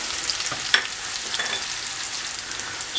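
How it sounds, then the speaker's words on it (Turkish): Onions and three cloves of garlic sauté in a pan for an oyster mushroom stir-fry, a steady close sizzle with a few light stirring clicks. "Şimdi içerisine 3 diş sarımsağımızı da ilave edip az biraz daha kavurup mantarlarımızı ilave edeceğiz."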